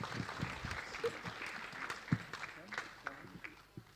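An audience applauds at a concert, with faint, scattered clapping heard at a distance, soft and sparse over several seconds.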